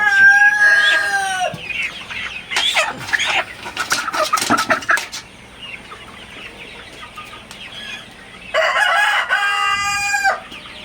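Sonali hybrid chickens cluck and squawk loudly in agitated bursts as they are caught for weighing, with a rooster-like crow near the start, close by, then quieter rustling between outbursts.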